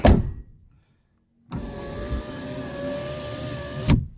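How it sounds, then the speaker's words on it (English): A rear power window on a 1995 Mercedes E320 wagon, fitted with a new regulator, runs with a steady whirring motor hum for about two and a half seconds after a brief silence, ending in a soft thunk, close and clear. "A working rear window regulator."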